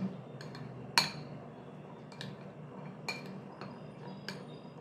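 A spoon stirs boiled chickpeas in a bowl for an aloo chana chaat, giving a few light, sparse clinks against the bowl over a quiet background.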